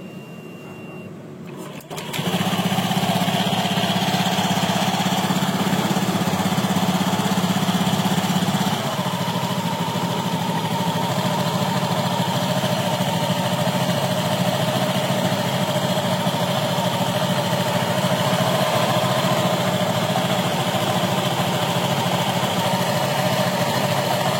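A scooter engine just repaired in the CVT area starts abruptly after a quiet moment, then idles at a steady, close, buzzing drone that eases slightly in pitch a few seconds in.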